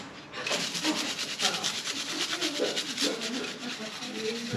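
A brush with washing-up liquid scrubs a handmade knife, producing close, rhythmic bristly rubbing strokes in quick repeated bursts.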